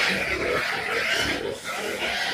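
A pig grunts and oinks on a rural property in Bohol, Philippines, shortly before slaughter. Steady close grunting runs throughout, with faint background noise.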